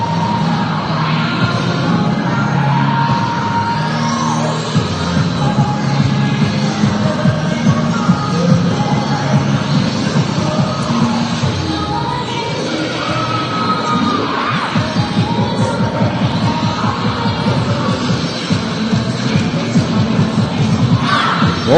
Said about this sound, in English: Turn the crowd noise up a little bit.